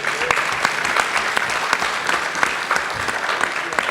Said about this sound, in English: Give Cleola a round of applause.